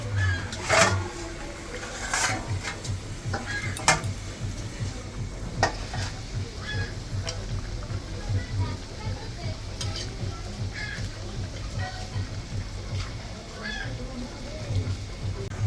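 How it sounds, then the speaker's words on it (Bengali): Pieces of rui fish added to a curry gravy with potatoes in a pan, giving a steady low bubbling sizzle with stirring clatters and scraping throughout, fairly close, with voices talking at times over it. "এখন ঝোলে মাছগুলি দিয়ে দিলাম।"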